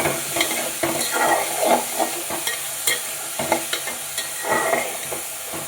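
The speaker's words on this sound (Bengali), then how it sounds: "নুনটাও দিয়ে দিচ্ছি, ভালো করে ভেজে নেবো।" Spices and salt stirred and fried in a hot pan for a Bengali potato dal, with tomato, a steady close sizzle broken by repeated scraping stirs, no talk.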